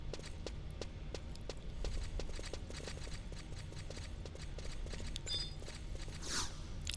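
Armored characters' footsteps in Final Fantasy XI, a steady run of clanking, clip-clop-like steps close by, repeating throughout with slight metallic accents and no talk.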